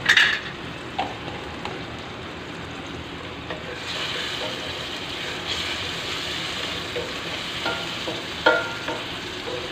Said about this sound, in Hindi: मैंने 2 से 3 मिनट के लिए लहसुन को भुना है ताकि इसमें से खुशबू आ जाए